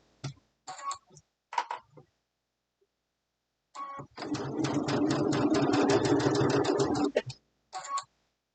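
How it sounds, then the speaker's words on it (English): A sewing machine runs steadily for about three seconds, stitching a fabric seam with the presser foot down. Short bursts of close speech come before and after the burst of stitching. "these seam allowances are facing towards the presser foot, so the presser foot could push them up"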